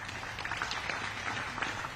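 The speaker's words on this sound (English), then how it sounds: "And the crowd does love it. A lot of claps there." Crowd clapping at a disc golf tournament, a steady patter of applause from a spread-out outdoor gathering that runs for about two seconds at moderate distance.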